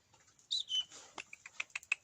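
A small wild bird near a campfire gives a few faint, high chirps, followed by a quick series of soft ticks and clicks in an otherwise quiet setting.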